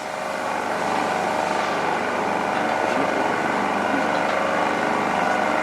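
A VCO heating machine runs while cooking coconut milk down into virgin coconut oil, giving a loud, steady motor-and-pump drone that holds evenly throughout with no talk.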